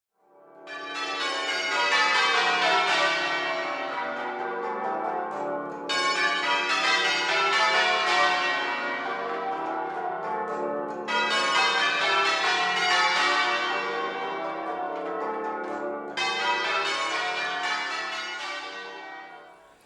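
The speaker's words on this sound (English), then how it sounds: "The bells are automatically chimed to mark the passing of time." The bells of Wimborne Minster chime automatically to mark the time. They ring as a loud, resonant peal in repeated descending runs of tones, each run swelling and then restarting, with sustained ringing overlapping throughout and no voices.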